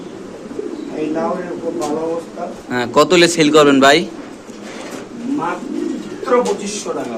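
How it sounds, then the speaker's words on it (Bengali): Pigeons coo at a pigeon farm, soft throaty calls running under a man's loud, continuous talking close to the microphone. "এখানে আছে ব্ল্যাক কবুতর আপনি দেখতে পাচ্ছেন"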